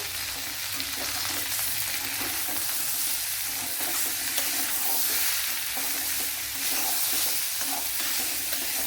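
Tomatoes and green chillies frying in a pan for a bitter gourd dish, a dense steady sizzle with faint stirring, close and continuous throughout, with no talking.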